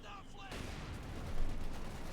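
Machine-gun fire in the strategy game Company of Heroes 2 rattles as a dense, rapid burst of shots that starts abruptly and continues, with distant battle noise behind a commentator's voice.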